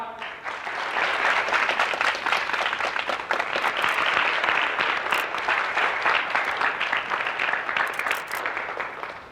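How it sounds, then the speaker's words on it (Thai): A crowd of guests applauds steadily at an event launching a new collection, welcoming an arriving guest with dense, even clapping that holds at full strength throughout. "ท่านผู้มีเกียรติทุกทท่าน ขอเสียงปรบมือต้อนรับ"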